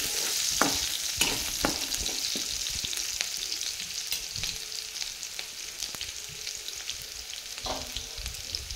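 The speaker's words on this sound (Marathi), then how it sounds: "कढईमध्ये तेल गरम केलेलं आहे। त्याच्यात बारीक चिरून घेतलेला लसूण आणि थोडंसं अद्रक आणि थोडी मिरची, हिरवी मिरची ही सगळी तेलात टाकून घेतली।" Chopped garlic, ginger and green chilies sautéing in hot oil in a kadhai: a steady bright sizzle throughout, broken by sharp scraping clicks as the spoon stirs, close and fairly soft, with no talking.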